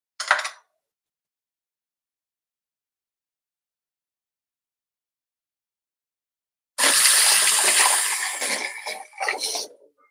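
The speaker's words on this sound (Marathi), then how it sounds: "थोडस अजून पाणी घालते मी" After a brief splash and a long silence, water gushes steadily into a fish curry for a few seconds, then tapers off in short spurts.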